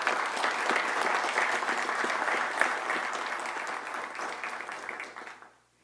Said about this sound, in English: if you would please join me in giving them a round of applause in advance for that